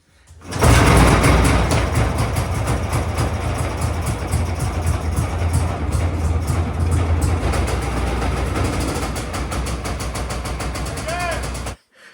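An old hovercraft engine, left abandoned for over 20 years and recently knocking badly, starts up and runs with a loud, steady, rapid chugging for about eleven seconds before it cuts off abruptly.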